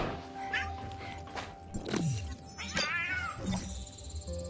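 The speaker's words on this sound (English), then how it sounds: "I hear a cat. It's not my cat." A cat meows and caterwauls several times in drawn-out, wavering cries over a busy background of other sounds, fairly close and clear.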